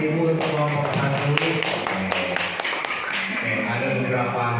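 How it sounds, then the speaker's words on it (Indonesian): Applause from mothers in a primary school teacher learning showcase for group one, scattered steady clapping under an ongoing voice. "Sekali lagi tepuk tangan ibu-ibu untuk kelompok satu."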